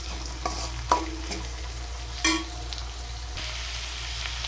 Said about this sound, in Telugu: పచ్చిమిర్చి వేసి ఇలా వేయించాలి